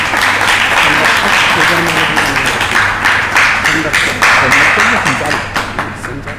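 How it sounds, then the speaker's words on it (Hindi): An audience at a Delhi religious gathering claps its hands loudly and steadily, with dense applause and sharp taps carrying on under murmuring voices. "तालियां बजाओ।"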